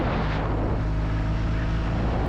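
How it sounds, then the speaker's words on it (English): Airplane passing low overhead on landing approach during a motorcycle ride, a steady loud broadband roar with a low hum, heard without talk. "Finally got a footage of an airplane landing."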